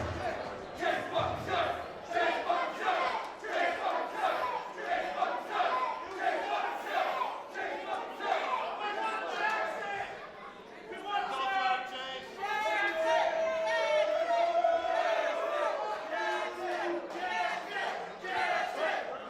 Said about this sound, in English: I guess it's not the crowd that's going to interrupt Chase.